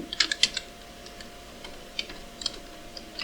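Scattered keystrokes on a computer keyboard while writing Python code, a few quick clusters of close, crisp clicks separated by pauses.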